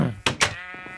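A sheep in the video game Minecraft gives two quick close bleats, followed by a brief fainter wavering tail.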